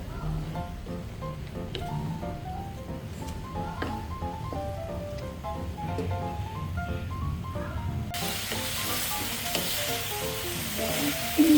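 Pork sizzling steadily in a pan as its fat renders out, a continuous crackling fry with faint popping and soft stirring, close and even throughout.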